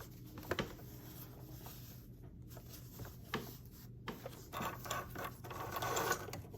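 A portable sewing machine stitches through fabric with a quiet, even mechanical whirr and light rhythmic tapping that rise and fall at low volume, with no speech over it.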